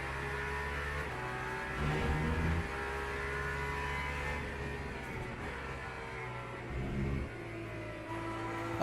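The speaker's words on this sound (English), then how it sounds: "This is a Porsche." A Porsche engine revs in a steady drone, rising in two louder surges early and near the end, heard at a moderate distance with no talking.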